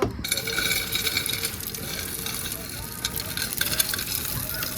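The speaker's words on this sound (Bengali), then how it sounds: "নুডলস লাল লাল করে ভাজা হয়ে গেছে" Noodles frying in hot oil until red and crisp, giving a continuous close sizzle and crackle with faint stirring throughout.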